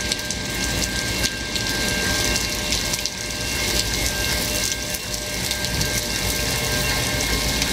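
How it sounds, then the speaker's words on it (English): Heavy rain pours down in Montreal, a dense, loud hiss of drops drumming on surfaces with occasional swells and a faint steady whine underneath, continuous throughout with no talking. "it's rare I get the opportunity to film a train in heavy rain"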